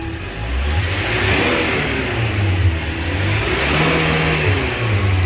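A 2008 Chevrolet Captiva diesel engine revs up and down repeatedly, close and loud, with a steady rumbling drone between pushes of the throttle and no talk.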